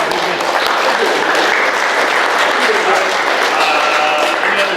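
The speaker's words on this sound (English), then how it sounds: "We clap for you" An office team claps together for a colleague's anniversary, a loud, close burst of hand clapping that keeps up steadily, with voices talking over it.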